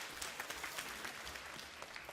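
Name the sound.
applause in church youth service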